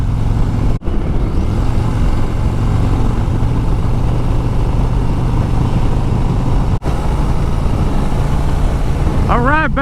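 A Harley-Davidson Road Glide CVO motorcycle engine runs loud and steady at an outdoor show demo ride, a continuous rumble with brief dips, with a person talking over it.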